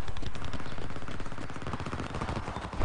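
Gunfire from the video game Homefront: loud, continuous rapid automatic bursts that fill the whole moment without pause, with no talking over them.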